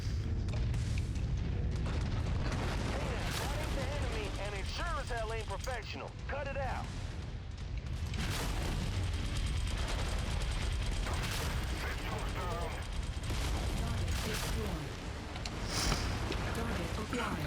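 Artillery fire support booms through a Mechwarrior 5: Mercenaries battle amid constant mechanical rumble and weapon blasts. The explosions are heavy, continuous and dense, and someone talks over the din throughout.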